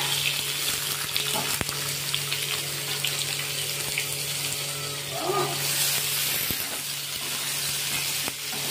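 Boiled potato sizzles steadily as it fries in a wok with bay leaf, asafoetida and green chilli, a continuous hiss with a few stirring scrapes and brief clinks.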